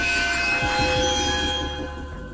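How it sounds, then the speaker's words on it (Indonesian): Inside a moving train in the anime Dandadan: a continuous loud rumble of rolling wheels with steady whining tones, easing off slightly toward the end. "Scene pun berganti di dalam kereta api"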